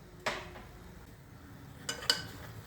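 Varai khandvi ingredients being stirred in a pot: a few faint spoon clinks and scrapes against metal, one near the start and a pair near the end, over quiet background.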